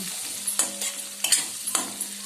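Turmeric and salt being stirred into a pan of frying chicken: a soft background sizzle broken by a few sharp scrapes and clinks of a spoon against the pan, with no voices.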